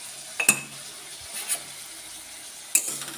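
A spoon stirs tomato chutney seasoned with turmeric and salt in a pan, giving a few light scraping clinks spaced apart over a faint, quiet kitchen background.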